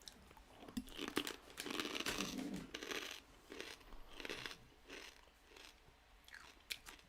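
Someone chews a crunchy snack close to the mic, with a series of loud, irregular crunches and bites spread over several seconds, no talking.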